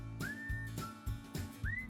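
A person whistles to call a horse in a 10-acre pasture: three short, clear whistled notes, the first and last rising, close and distinct over a dull low background rumble.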